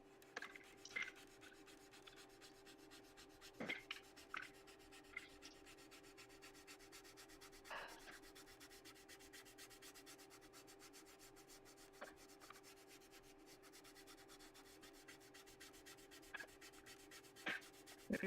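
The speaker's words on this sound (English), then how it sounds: "I hear sanding as well." Steady abrasive rubbing of sanding, with occasional sharper scrapes and knocks, moderately quiet against a constant background hum.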